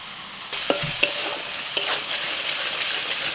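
Prawns stirred through a yogurt and spice masala in a pan, giving a steady frying sizzle with a few sharp spoon clicks and scrapes against the metal, close and alone without talk.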